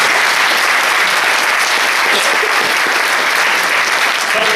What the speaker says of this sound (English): a round of applause for all the hard work.